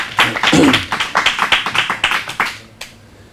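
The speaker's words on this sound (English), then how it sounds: "Give her another big round of applause." Audience applause at a charter school event: a loud burst of hand claps that settles into a steady rhythmic run of claps before trailing off near the end.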